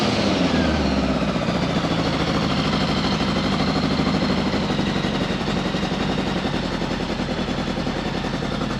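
A 1975 Honda Goldwing motorcycle engine runs steadily with its muffler fitted, a close, even idle with rapid regular pulsing and no talk over it.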